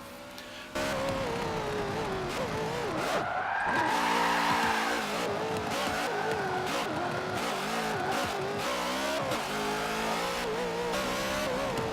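A car drifting with traction control off in Forza Motorsport 7, its engine revving and wailing while tyres squeal and skid through long slides, loud and continuous after a short quiet start.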